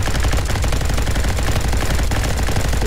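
A light machine gun fires in a Roblox Call of Duty–style shooter, a loud, continuous rapid rattle of shots filling the whole few seconds with no talking.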